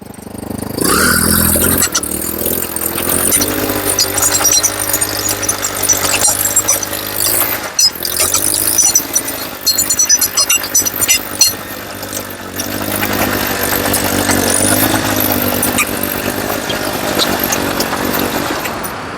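A mini tractor engine runs loudly and continuously close by on very hard ground, with a rough, steady drone that roughens and surges slightly partway through.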